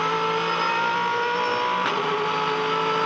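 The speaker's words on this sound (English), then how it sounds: "Just have a listen for this engine note here" A 2010 V8 Supercar engine with a throttle issue, racing at the Sydney 500, holds a high, steady buzzing note with a brief sharp change midway, loud and continuous throughout.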